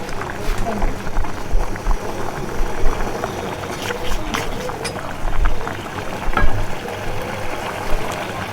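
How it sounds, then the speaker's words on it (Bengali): Masala spices, including Kashmiri red chilli powder, sautéing in a pan, giving a continuous close crackling sizzle with uneven bubbling pops that rise and fall throughout. "এখানে খানিক্ষণ মশলাটা কষা হবে"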